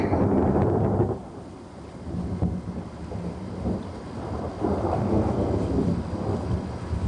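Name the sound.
thunder rumbling during a thunderstorm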